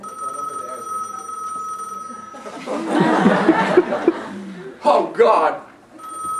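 A phone rings in a classroom during a lecture on rivers and floods, a steady electronic tone before and after a burst of nearby talk and laughter from students.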